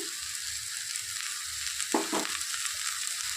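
Taro pieces fry in a pan with salt and turmeric, giving a steady close sizzle with a couple of short scraping stirs partway through and no voices.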